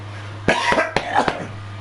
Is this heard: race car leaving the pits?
no